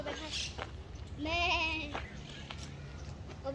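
Sheep bleat at the Irapuato zoo, one long wavering cry up close that stands out over a noisy background and murmured voices.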